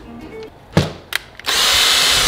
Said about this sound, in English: Not me using a drill to take apart another drill.